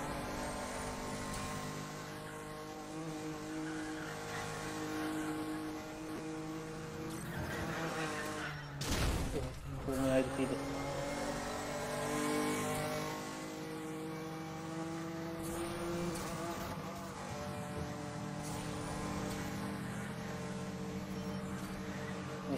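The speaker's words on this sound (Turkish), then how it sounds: "Dört çeker olmasından kaynaklı müthiş bir yol tutuşu var araba." A Nissan GT-R in Need for Speed: The Run drones along with a sustained engine tone and tyre noise, broken around the middle by a brief harsher burst as the car skids, then settling back into a steady run.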